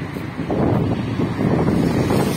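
Wind buffets a microphone outdoors on a city street in Tambov, a loud, low, continuous roaring rumble with gusty surges and no speech.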